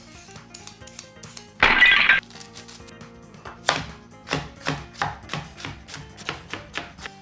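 Chopping a carrot on a cutting board for soffritto: a steady run of crisp knife strikes against the board, close and moderately loud, after an earlier short burst of harsher clatter.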